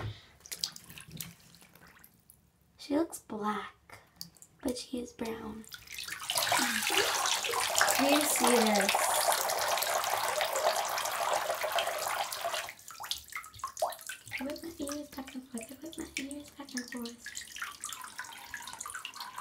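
Running tap water splashes into a sink or tub as a Webkinz plush toy is washed, a loud continuous rush lasting several seconds, with someone talking and singing before and after.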